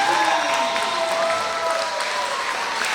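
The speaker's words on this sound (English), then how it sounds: "So let's give another round of applause for Miss Nikki." Applause from a crowd at a camp's closing ceremony, a steady wash of clapping hands that carries on evenly for a few seconds, fairly near.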